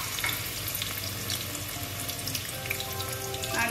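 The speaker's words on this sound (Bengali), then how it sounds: "দিয়ে দিলাম রসুন কুচি। গ্যাসের আঁচটা কম করে দিলাম, একটু হালকা করে ভাজতে হবে" Chopped garlic, added after ginger, sizzles gently in a pan over a low gas flame while chilli paneer is cooked; a steady, close, soft crackling frying hiss with light stirring and no voices.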